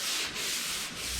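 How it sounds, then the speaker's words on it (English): Close, steady rasping of 320-grit paper block-sanding wet primer on a 1969 Chevelle body panel, continuous back-and-forth strokes with two brief dips at the stroke turns, no voices. "And wet sand that."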